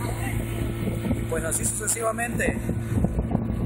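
A motorboat carries an orchestra between ports. Its engine gives a steady, close droning hum mixed with wind rush, while people talk over it throughout.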